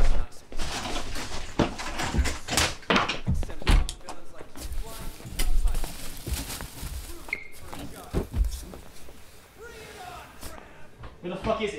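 A door is opened and slammed amid sharp thuds and knocks, loud and close, while agitated voices shout over the bangs.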